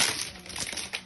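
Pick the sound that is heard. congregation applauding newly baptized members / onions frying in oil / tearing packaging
tearing packaging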